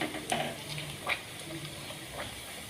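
Paneer pieces frying in oil for palak paneer are stirred, giving a soft, steady sizzle with a few faint scraping clicks of the spoon, fairly quiet and close.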